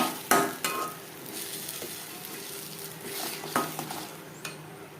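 Mankochu taro paste is stirred in a pan over a high flame, with a soft sizzle beneath several sharp spoon scrapes and knocks against the pan at irregular intervals, and no voices.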